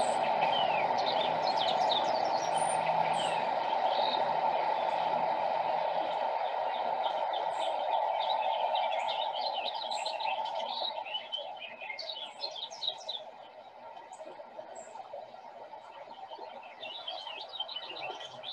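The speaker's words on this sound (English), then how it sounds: "I could hear this finch singing at the top of this tree" A finch sings repeated bright, twittering triplet phrases from a treetop at a distance over a steady background hum, continuing throughout.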